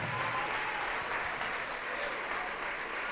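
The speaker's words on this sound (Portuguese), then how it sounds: "vamos aplaudir ao Senhor Jesus por cada vida que está chegando" A church congregation claps in praise during a Portuguese-language worship service, a continuous, somewhat distant wash of applause filling the room without a break.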